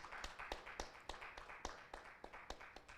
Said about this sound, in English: Can we give him a more energetic round of applause?